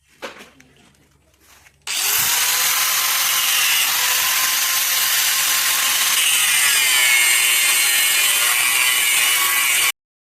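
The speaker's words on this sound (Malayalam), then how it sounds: "നമ്മൾ കട്ട് ചെയ്തതിന് ശേഷം ഇതിൻ്റെ മൂർച്ചയൊക്കെ കളയാൻ വേണ്ടിയിട്ട് ഒന്ന് ഗ്രൈൻഡ് ചെയ്ത് ക്ലിയർ ചെയ്യുന്നുണ്ട്" A loud, continuous angle grinder whine runs for about eight seconds as it smooths the sharp cut edges of an opened AC inverter compressor shell, starting abruptly after quieter handling noise and stopping cleanly.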